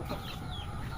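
Chickens cluck softly, with a pet turkey among them on a banana farm. The sound is faint and continuous, as if from a nearby coop, and no voices are heard.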